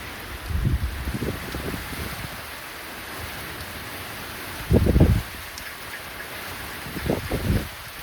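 Rain falls steadily with a constant soft hiss, broken by a few brief, louder low rumbling bursts near and far.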